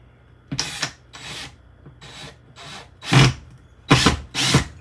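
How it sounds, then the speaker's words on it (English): A power drill drives a drywall screw into a wall with no stud behind it, in several short whirring bursts separated by pauses. "I'm gonna just temporarily put in a drywall screw here"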